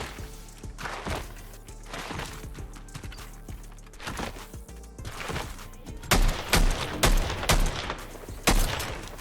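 Rapid bursts of AUG rifle fire in Fortnite, loud and close, with clusters of shots spread across the clip and the densest volleys near the end, mixed with faint in-game mechanical and footstep noises.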